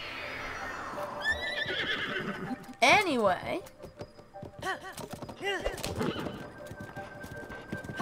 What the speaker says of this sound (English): We just ride the horse up until we can't.